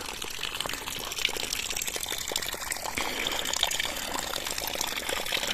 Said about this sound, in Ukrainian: що ж, прийшли до такого джерельця.